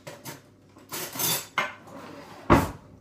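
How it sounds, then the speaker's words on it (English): A spoon scrapes and clinks inside a sugar jar while scooping sugar, several close, distinct scraping strokes and knocks with no talk. "Got my sugar from the sugar jar."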